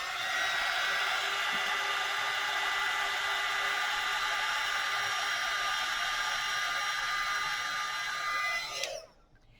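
A heat embossing tool blowing hot air onto embossing powder, a steady close whirring blower hum lasting several seconds before it cuts off abruptly near the end.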